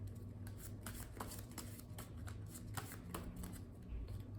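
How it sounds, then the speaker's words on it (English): Marvel Champions player deck cards are shuffled by hand in a steady run of crisp riffling bursts, close and moderately quiet, with no talk. "let's shuffle Peter Parker into our player deck here"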